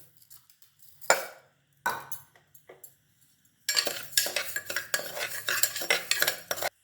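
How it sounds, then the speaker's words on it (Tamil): Rice dry-roasted in an oil-free pan, with a few isolated spoon clinks followed by steady, close scraping and rattling of grains against the metal. "அடுத்து அரிசியை வறுத்துக்கும்"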